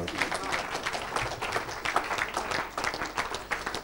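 A church congregation applauding in praise during a deliverance service, dense steady clapping filling the whole stretch at moderate loudness, with a few faint voices mixed in.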